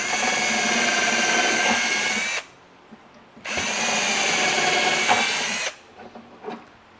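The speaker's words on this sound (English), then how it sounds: "and we'll drill these two holes." Power drill boring two holes for a kitchen pull-out shelf, two sustained high whining bursts of about two seconds each with brief pauses between, close and loud.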